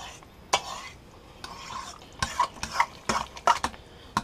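Oio bonefish paste is stirred and mashed in a bowl for fish patties, giving a series of irregular wet slaps and scrapes, fairly close and distinct, with quiet pauses between strokes and no talk.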